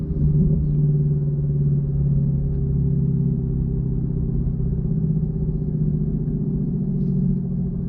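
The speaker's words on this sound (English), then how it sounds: "we are driving the S2000" A Honda S2000 sports car being driven at speed on a road, heard as a steady, loud low engine drone and road rumble from inside, continuous throughout with no talking.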